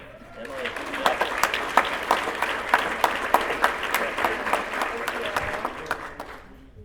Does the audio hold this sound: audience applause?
yes